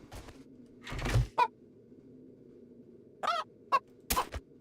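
Chickens in the zombie survival game 7 Days to Die, held in a chicken coop, give short clucking bursts with thumps and knocks scattered between them over a low background hum.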